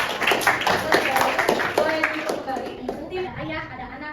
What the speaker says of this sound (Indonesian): Boleh berikan tepuk tangan kepada kelompok